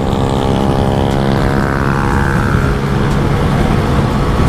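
Honda XRE300 motorcycle engine accelerating steadily in fifth gear, a loud continuous hum with wind rushing past, constant and close throughout.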